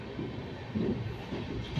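A moving train rumbles steadily, with dense low-pitched rattling and clatter throughout the brief stretch.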